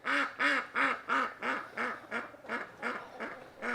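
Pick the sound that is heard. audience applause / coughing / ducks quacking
ducks quacking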